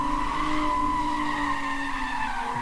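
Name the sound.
drift car tires skidding on street course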